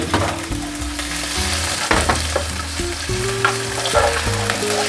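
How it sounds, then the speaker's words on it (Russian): Boiled baby octopus fries in a pan, giving a loud, steady sizzle with bursts of crackle and stirring clatter throughout, no voices. "Обжариваем."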